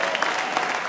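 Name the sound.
crowd applause for the opponent after a fight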